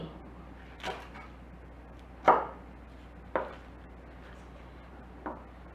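A few sharp knife chops through Chinese kale on a cutting board, spaced irregularly with pauses between them, close and fairly quiet.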